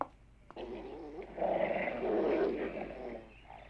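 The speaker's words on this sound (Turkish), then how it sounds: "köpeklerinizin ayılarla kavga etmekten ne kadar hoşlandığını görüyorsunuz" Dogs fight bears in an animated cartoon, a rough snarling and growling clash rising after a short thump and holding strong before fading.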